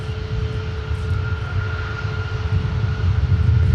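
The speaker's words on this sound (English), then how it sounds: "runway 17, clear for takeoff." A jet airliner powers up for takeoff on runway 17 at Minneapolis–Saint Paul airport, a steady broad engine roar with a low rumble that grows slightly louder, heard alone from a distance.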